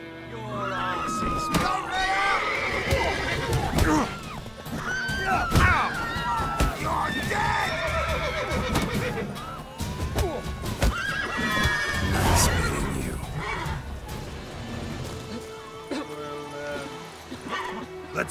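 Horses neighing and whinnying loudly alongside galloping hoofbeats and dog-like barks in The Witcher 3 video game, a dense continuous clamour of animal calls and game noise.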